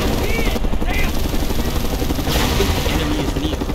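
A helicopter in the video game Mercenaries 2 thrums steadily and loudly throughout, mixed with game chatter from soldiers and brief synthetic tones.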